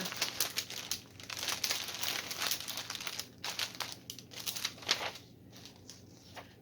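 Crinkly edged item handled close up, giving soft repeated crumpling and crinkling rustles in uneven bursts with no talk.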